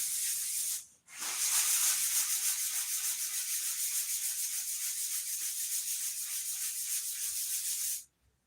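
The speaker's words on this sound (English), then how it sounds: "Give that a quick little sand." Hand sanding with steady back-and-forth rasping strokes, close and continuous, with a brief pause near the start.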